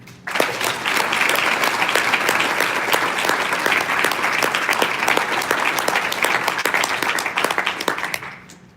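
A large audience at a healthcare leadership conference claps steadily and loudly for several seconds, a dense wash of applause that rises abruptly and fades at the end.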